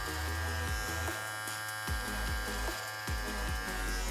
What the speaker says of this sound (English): you can flip the trimmer over, again, back against, come in, and then come out